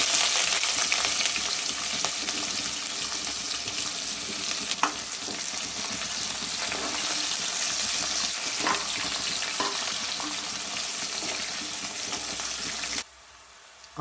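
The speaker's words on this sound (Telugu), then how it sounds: "ఆనియన్స్ గోల్డ్ కలర్ వచ్చే వరకు మగ్గనివ్వాలి." Onion pieces fry in a pan for prawn biryani, a steady close hiss and sizzle with occasional faint stirring clicks, running continuously before cutting out near the end.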